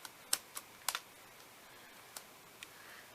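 Scissors trimming a paper card while making a shaker card, a few sharp, quiet snips spaced irregularly, close-up with a faint background.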